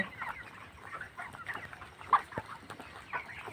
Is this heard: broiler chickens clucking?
yes